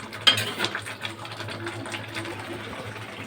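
Drumstick thokku is stirred in a pan with a steady scraping and a low mechanical whir, soft clinks near the start, a continuous moderate texture throughout.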